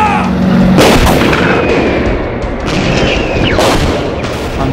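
A sharp volley of gunfire booms out in a Doctor Who series 8 trailer, with several loud, close shots fired in quick succession over a dense rumbling background.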